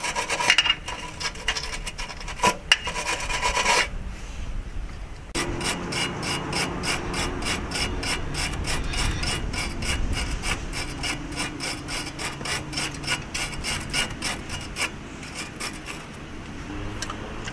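Stiff bristles scrub back and forth over a metal bolt thread on an Alfa Romeo MiTo control arm in quick, steady rhythmic strokes, close and fairly loud, after a brief stretch of coarser scraping.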